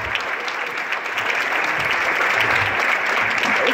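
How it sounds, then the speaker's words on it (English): Audience applause for DC government workers at a mayoral event, a steady wash of many people clapping that builds a little over a few seconds, with faint low rumbles beneath. "Let's give them a big round of applause."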